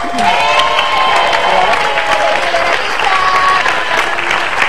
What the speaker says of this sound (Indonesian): pemirsa tepuk tangan lu dong